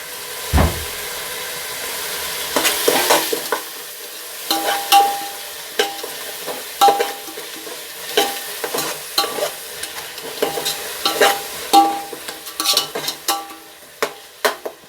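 Ground garlic sautéing in a pan of oil while making Dindigul-style mutton biryani: a steady sizzle with repeated scraping stir strokes and occasional clinks, close and moderately loud, no talk.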